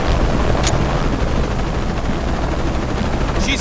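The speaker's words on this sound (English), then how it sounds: "Always hated helicopters." Helicopter in a Tomb Raider game, a loud continuous rotor thrum that holds steady throughout, with a couple of brief sharp bursts layered on top.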